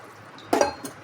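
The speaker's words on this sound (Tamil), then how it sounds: "கொஞ்சமாக தண்ணி சேர்த்து" A small splash of water goes into a metal cooking pot, a brief wet burst with a light clink against the pan, heard close and alone against a quiet kitchen background.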